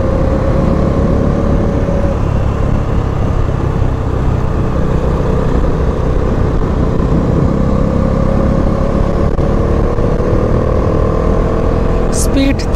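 A motorcycle rides a winding mountain road toward Tawang via Sela Pass in December, its engine droning steadily and close throughout with constant road and wind rumble.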